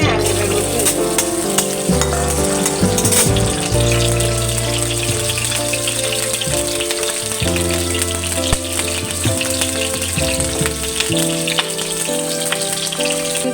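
Loud, constant sizzling of food frying in hot oil in a pan for a Sundarbans kewra fruit chutney, a dense crackle that runs without pause, close up with occasional stirring noises and no voices.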